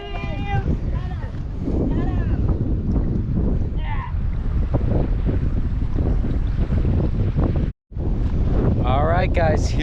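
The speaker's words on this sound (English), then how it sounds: "It doesn't matter how windy it is." Strong wind buffets the microphone on a lake during a kayak trip, a loud continuous roar with splashing waves beneath and a brief dropout; a voice speaks over it.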